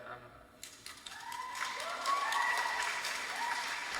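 A concert audience at a show cheers and applauds, swelling from a quiet start into sustained clapping and whoops that hold steady at moderate loudness.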